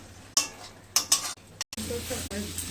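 Tomato goes into a frying paste of ginger, garlic, chilli and cumin, and the oil flares into loud, bursting sizzles. Brief utensil clinks follow, then a steadier frying hiss continues.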